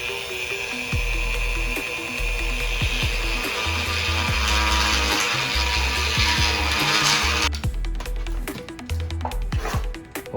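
A Dremel rotary tool shaves a battery rack mount, making a steady high-pitched whine that runs for several seconds, then breaks into rougher grinding bursts as it bites into the material, close and continuous.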